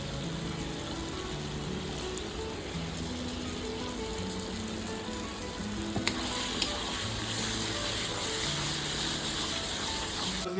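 Washed mutton fat fries in a pan with a thick, steady sizzle that keeps on without a break, rising a little louder partway through, for a special ghugni.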